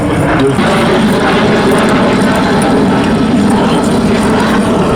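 A Fouga Magister jet trainer flies at an airshow at La Ferté-Alais, its steady, loud engine roar filling the whole stretch without a break.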